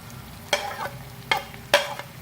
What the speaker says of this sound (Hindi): प्याज और भिंडियाँ गोश्त में ऐड कर दी है